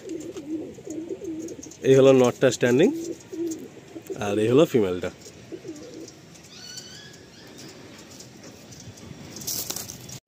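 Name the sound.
Madrasi pigeons cooing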